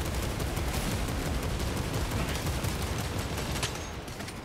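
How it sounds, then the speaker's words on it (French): Rapid, sustained assault bolter fire in Warhammer 40K: Space Marine 2, a dense unbroken barrage of heavy automatic shots that stays loud for several seconds before easing slightly at the end, with no voices over it. "Ah, le bolter d'assaut, hein."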